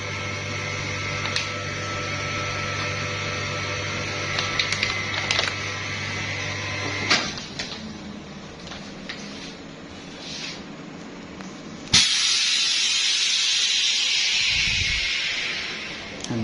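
A two-chamber vacuum packaging machine, model 603, runs with a steady mechanical hum that cuts off around midway, followed by a few clicks and a hissing rush of air as the chamber releases after sealing the bags.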